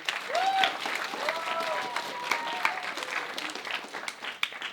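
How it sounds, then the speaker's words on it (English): An audience applauds young performers at the end of a summer radio show, dense clapping sustained for nearly five seconds, with voices and cheers rising over it. "So big round of applause for those guys."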